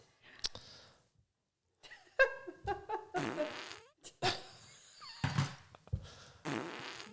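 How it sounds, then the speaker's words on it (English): Several fart sound effects come in bursts separated by pauses, some long and sputtering, others short and sharp, loud and close with no talking over them. "Let's talk about farting."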